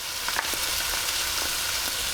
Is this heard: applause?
no